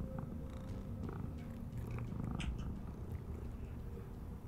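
A cat in the video game Tales of the Neon Sea purrs in a steady, soft, continuous rumble over a few seconds, close and quiet, with faint scattered clicks around it and no speech.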